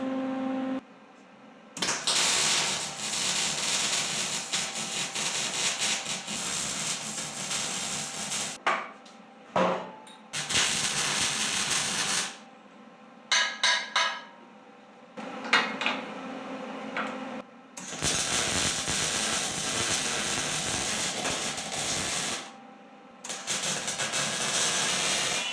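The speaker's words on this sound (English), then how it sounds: "we're fixing to weld this up." Arc welding on angle brackets of a 1976 Ford F100 in a shop: long stretches of steady crackling hiss broken by short pauses and bursts, loud and close, with no talking.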